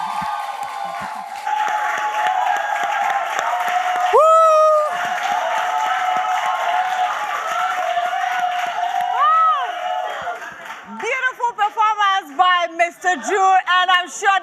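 A lively crowd at a talk show cheers, applauds and whoops, sustained clapping with high shouts and whistles rising throughout, then breaking into scattered excited yells and chatter near the end.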